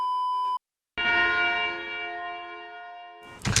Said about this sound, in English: It's like a wedding chapel bell.